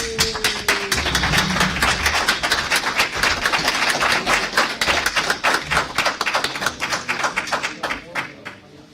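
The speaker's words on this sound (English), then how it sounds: "So I want everybody to give a round of applause for Christina Hammer." An audience at a post-fight boxing press conference applauds for boxer Christina Hammer, a dense, sustained patter of many hands clapping that fades away near the end.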